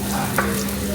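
Chopped onion hitting a hot pan, a brief steady sizzle with a small stirring scrape.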